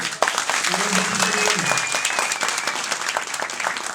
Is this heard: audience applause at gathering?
yes